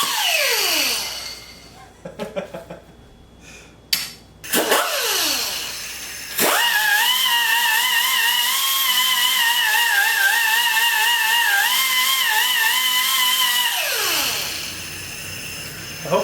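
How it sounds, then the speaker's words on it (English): Power tool stripping paint off a steel WWII-style dummy bomb: the motor spins up loudly, then runs as a steady, close, harsh whine before winding down. "I need to start by stripping all this paint off here, because I need to do some welding"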